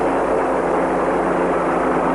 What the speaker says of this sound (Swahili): General Coleman David Carradine teremsha helikopta chini